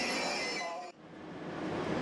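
A German ICE 3 high-speed electric train rushes past nearby with a steady roar and a hissing rush of air, which drops off abruptly partway through to a quieter rumble.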